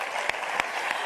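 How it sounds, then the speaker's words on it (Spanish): Brief audience applause at an award speech, a dense patter of clapping from many hands with a few sharper individual claps standing out. "pido un fuerte aplauso para ella."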